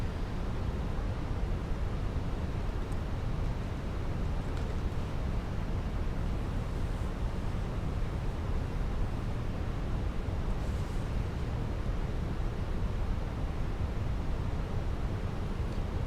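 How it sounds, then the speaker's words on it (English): Microsoft Flight Simulator 2024 British Airways A320 with IAE engines, a steady broadband engine buzz and rumble that holds at a constant level throughout, with no talk. "I love the buzz of the IAE engines."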